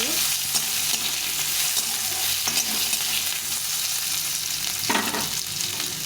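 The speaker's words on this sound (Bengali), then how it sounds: "প্রথমে আলুটা দিয়ে দিলাম আলুটা একটু ভেজে দিয়ে" Potato pieces fry in a little oil in a pan for a vegetarian curry, sizzling steadily up close while a few louder stirring scrapes stand out along the way.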